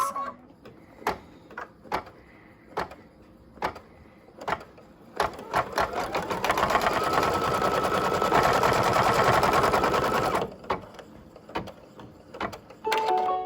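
An embroidery machine threaded in pink stitches the outline of a dress: separate mechanical clacks at first, then a long fast rattling run of stitches, then spaced clacks again, close and loud with no talk.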